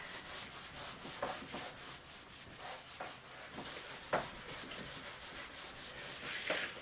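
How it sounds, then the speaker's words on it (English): A board rubber wipes across a classroom board in rhythmic back-and-forth strokes, a soft, steady, scratchy rubbing with occasional louder knocks, close and quiet with no speech. "So I'll rub out this side of the board so we have more space."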